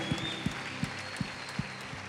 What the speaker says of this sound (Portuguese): Dê uma salva de palmas a Jesus por essas vidas.